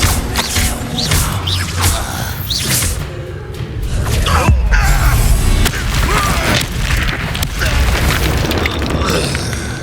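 Confringo blasting spells explode during Hogwarts Legacy combat, loud booming impacts layered with whooshes and crashes in a dense, continuous battle din, with voices shouting over it.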